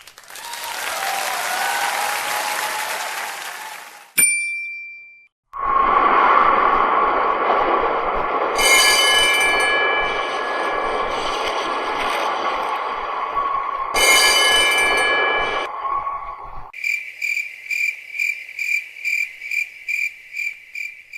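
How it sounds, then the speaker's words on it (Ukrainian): A tram sequence: hissing noise, a bell ding, then a loud rumbling run with squealing wheel tones, ending in a series of rapid rhythmic chimes. "Так звучить трамвай."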